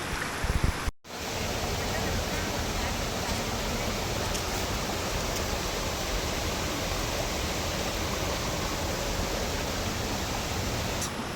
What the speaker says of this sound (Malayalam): ഇത് വാഴവന്തോൾ ശരിക്കും പ്രോപ്പർ വെള്ളച്ചാട്ടമല്ല, നദിയാണ്.